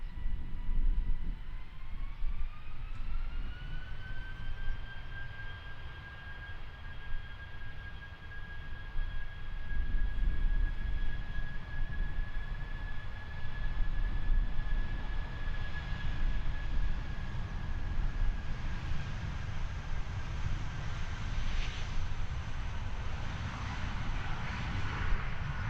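A jet airliner rolls for takeoff down runway 02 at Christchurch Airport, its engines spooling up into a rising whine over a broad, steady roar heard from a distance, with no talking.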